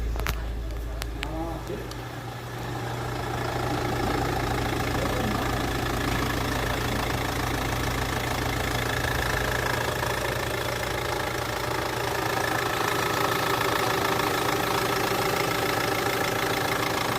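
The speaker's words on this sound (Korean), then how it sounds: "시동을 걸어서 엔진의 상태를 확인합니다" An older Hyundai Santa Fe engine turns over and catches after timing belt, engine head and radiator work, then settles into a steady, rumbling idle that runs on continuously.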